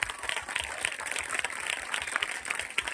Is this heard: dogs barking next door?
no